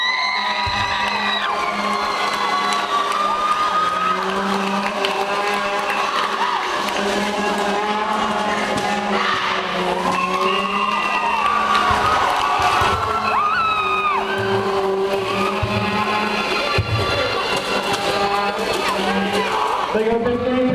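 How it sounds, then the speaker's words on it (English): A school crowd at a homecoming spirit week rally cheers and whoops loudly and continuously, with children's shouts and scattered voices blending into a dense, sustained roar. "Give a big cheer right now."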